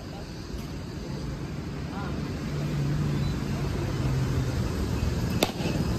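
Motorcycle engine running outdoors before a group ride, a steady low rumble that grows slightly louder partway through, with a brief sharp click near the end and background wind noise.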